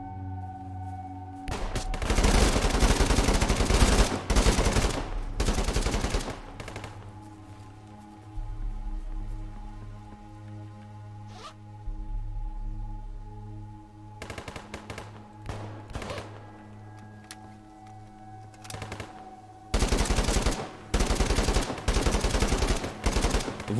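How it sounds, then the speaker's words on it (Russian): Automatic gunfire in the Ray of Hope shooter game, indoor and outdoor, several loud sustained bursts of rapid shots separated by quieter stretches of low ambient hum, with no talking. "Мы доработали звуковую систему, и сейчас выстрелы в помещении и снаружи звучат по-разному"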